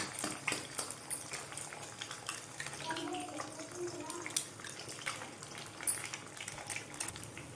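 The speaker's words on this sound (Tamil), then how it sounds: "இப்போது எண்ணெய் நல்லா ஹீட் ஆகிட்டு அந்த முட்டையை உடைச்சி ஊற்றிக்கலாம்." Egg broken into well-heated oil in a pan while making egg fried rice, giving a steady crackling sizzle with scattered pops and spits, fairly quiet and close, with no talking.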